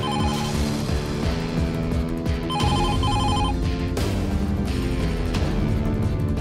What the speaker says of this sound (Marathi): कोकोने लँडलाईनवर फोन केला आहे, म्हणजे इथून कोणीतरी तिला फोन केला असणार.